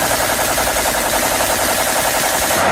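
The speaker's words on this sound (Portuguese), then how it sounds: "ela apontou sua arma para a esfera e disparou" Rapid, continuous gunfire rattles loudly throughout, a dense burst of shots with no pauses and no voices.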